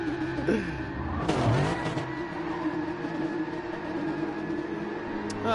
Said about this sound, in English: I hear a lot of engines starting to roar, and it's just a lot of people doing burnouts